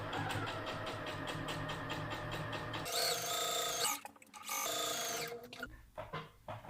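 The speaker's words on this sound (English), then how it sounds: "And I'm just gonna sew." A sewing machine runs a long basting stitch with loosened thread tension on a gathered skirt: a rapid, even mechanical whir in one continuous run, then two more bursts separated by brief pauses, with no talking.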